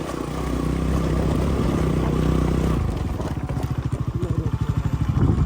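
A motorcycle engine on a snowy mountain road runs loud and close, then drops into a rapid pulsing idle-like chug with clatter in the second half.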